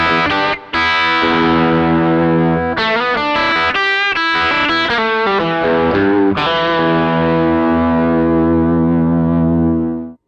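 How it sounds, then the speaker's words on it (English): Overdriven electric guitar with a pushed, fairly dry tone and only a touch of reverb and delay plays sustained chords and riffs, loud and dense, alone with no talking, ending in a fading held note. "This is my more overdriven pushed sound. It's pretty dry."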